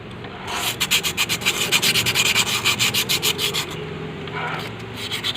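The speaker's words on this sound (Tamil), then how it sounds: "ரஃப் எமரி யூஸ் பண்ணாதீங்க, நைஸ் எமரி தான்." A motorcycle rod being rubbed clean with fine emery paper: a close, rhythmic series of quick back-and-forth scraping strokes, a short burst, a steady run of about two dozen strokes, then a few more after a pause.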